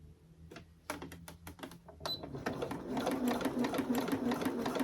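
A sewing machine runs a straight stitch, starting with a few separate needle thumps that quicken into a steady fast whir, loud and close with no talk.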